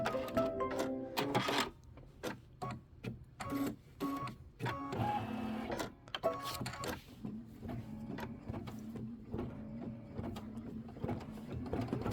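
An embroidery machine stitches a heart applique satin outline, fast rhythmic needle chatter broken by short pauses and mechanical whirs, close and steady with no talking.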